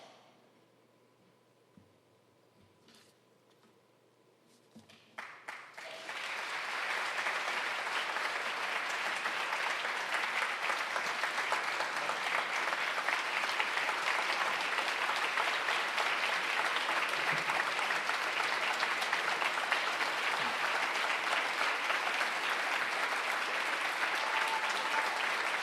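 Audience applause for soldiers and their families at a ceremony honoring Yom Hazikaron and Yom Ha'atzmaut. It starts after a few quiet seconds, then swells into a steady, dense, sustained clapping that carries on without a break.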